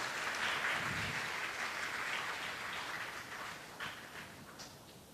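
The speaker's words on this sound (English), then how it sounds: "Please give him another round of applause." Steady, sustained applause from an audience at a university math fair for the Dean, a dense wash of many hands clapping that continues throughout and gradually tapers toward the end.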